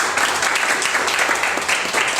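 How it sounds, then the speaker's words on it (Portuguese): Applause for a participant at a public forum on education with a municipal education secretary, a steady wash of many hands clapping throughout at moderate level. "aplausos para ela."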